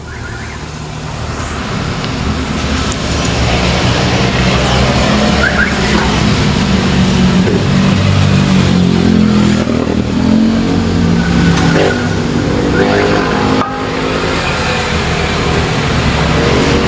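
A car engine runs steadily and loudly with the AC compressor engaged during a DIY repair of the vehicle's air-conditioning, a continuous dense roar with brief dips and no speech over it.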